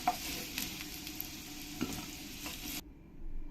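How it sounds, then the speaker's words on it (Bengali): Potato pieces frying in hot oil for a green-banana kofta dish, a steady close sizzle with stirring clatter that cuts off abruptly near the end, leaving a faint quiet background. "আলুগুলো দেখো লাল লাল করে ভাজা হয়ে গেছে"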